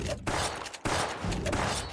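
Rapid gunfire in the online shooter Gunz The Duel, a reload half shot fired in quick succession, loud dense bursts with a brief gap partway through, no talk.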